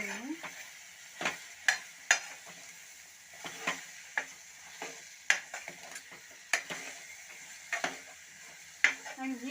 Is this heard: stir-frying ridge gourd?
yes